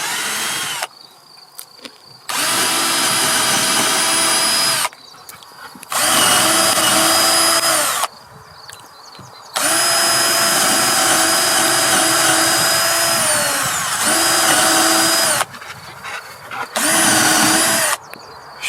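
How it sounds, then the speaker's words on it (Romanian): A power drill whirs in several bursts of a few seconds each while drilling holes for a screw, spinning up and down with short pauses between, loud and close with no talking. "Așa că prima oară dăm niște găuri"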